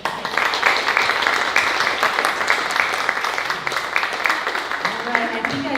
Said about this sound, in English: So please give everybody on the panel a round of applause real quick.